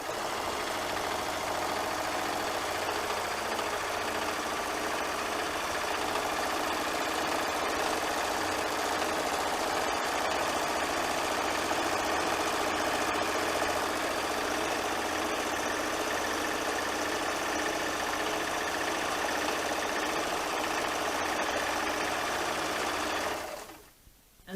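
A sewing machine runs steadily while stitching a baby quilt, a continuous close whirring hum that holds for over twenty seconds before stopping abruptly.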